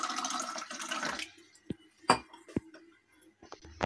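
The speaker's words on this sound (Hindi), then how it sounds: "मैं गिलास के अंदर पानी डालूंगी" Water pours into a drinking glass for a short rushing stream of about a second, followed by several light, separate clinks and taps of glass. The sound is close and quiet, with no speech.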